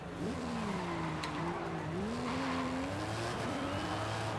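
A car pulling away in the racing game Forza Horizon 5, a continuous loud engine drone whose pitch climbs and shifts through gear changes, with faint tyre noise underneath and no talk.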